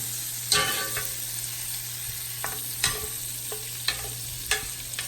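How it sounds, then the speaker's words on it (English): Steak bites sizzle in melting butter in a pan, a quiet steady fry punctuated by a few sharp scrapes and clinks as the meat is stirred around, with no talking. "now I'm just going to maneuver my meat around to get it all nice and to help melt the butter"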